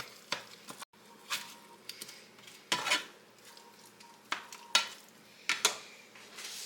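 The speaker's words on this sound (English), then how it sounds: "I'm just going to get that beef kind of broke up into smaller pieces" Ground beef clatters as a utensil breaks it up in a pan, a series of irregular scraping and tapping knocks against the cookware with a faint sizzle underneath, close and moderately loud, no talking.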